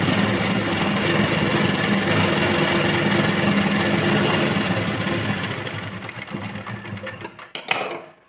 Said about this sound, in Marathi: 1/2 इंचाच्या अंतरावर जे आहे आपल्याला इथे टीप मारून घ्यायची आहे